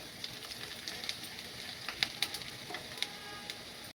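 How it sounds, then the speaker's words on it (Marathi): Garlic sautéing in butter in a pan for pasta: a quiet, crackling sizzle with small spitting pops scattered through, close and steady, then cutting off abruptly. "लसूण चांगला याच्यामध्ये परतून घ्यायचा आहे"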